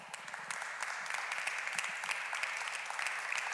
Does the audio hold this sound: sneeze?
no